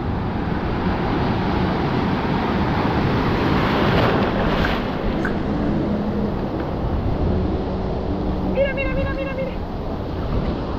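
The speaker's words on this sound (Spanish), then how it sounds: "¡Ay, estas olas están bien altas!" High ocean waves breaking on a beach, heard as a loud, constant roar of surf mixed with heavy wind buffeting the microphone, and faint voices briefly in the background.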